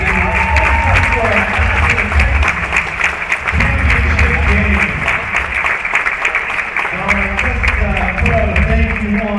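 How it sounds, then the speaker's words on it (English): Sustained applause from a crowd at a championship competition, dense and steady clapping throughout, with a voice speaking over it at moments. "let's give one more round of applause to both of these teams"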